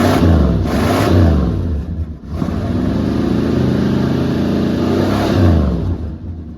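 A tired, smoky 318 V8 in a 1968 Dodge Charger running rough and revving, loud and close, with the engine note rising and falling steadily throughout and no voices.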